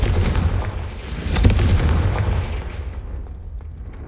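A Confringo fire spell explodes in the video game Hogwarts Legacy, a loud booming blast with a deep rumble that swells briefly and then rolls away, fading over a few seconds.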